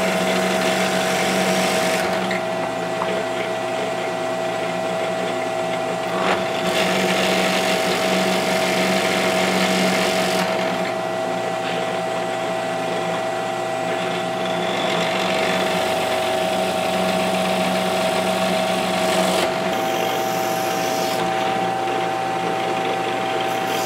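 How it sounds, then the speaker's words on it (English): A power drill bores a series of holes around a round slice of firewood, a steady loud motor whine running throughout with brief dips in pitch between holes. "we're going to drill a series of holes around"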